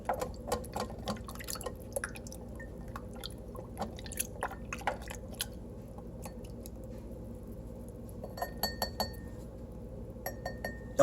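A utensil stirring alkaline water in a glass gives a series of light, close clinks and taps, scattered irregularly and then bunched near the end over a quiet background.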